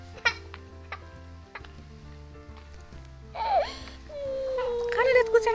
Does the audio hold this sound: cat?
yes